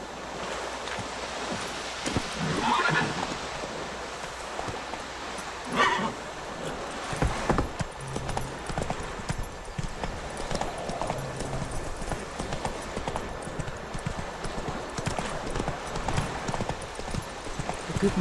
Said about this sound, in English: no espantes a mi caballo